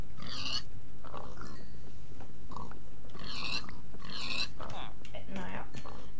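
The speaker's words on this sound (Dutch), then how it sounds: "Rij met varkens." Pigs in the video game Minecraft grunt and oink in several short bursts, loud and close, with a voice speaking over them.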